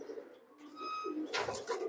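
A tournament racing pigeon gives a soft close coo with a sustained tonal note, followed by a short rustling burst that may be wing movement, faint and brief in a quiet room.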